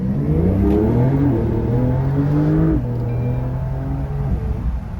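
A Porsche 911 Carrera GTS engine pulled hard at full throttle, rising loudly through the revs, then dropping at a gear change and climbing again, close and dominant.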